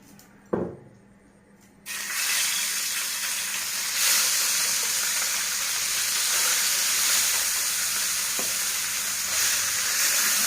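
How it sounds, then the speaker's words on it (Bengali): Parshe fish frying in oil on a hot tawa: a clunk, then a loud sizzle bursts in and settles into a dense, continuous crackling hiss, close and with no voices. "আমার তাওয়া গরম হয়ে গেছে, আমি তেল দিয়ে পার্শে মাছগুলো ভেজে নেব।"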